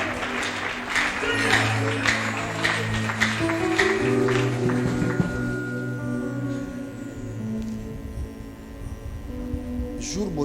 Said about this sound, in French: Est-ce que vous pouvez applaudir, s'il vous plaît?